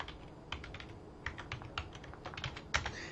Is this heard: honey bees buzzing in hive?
no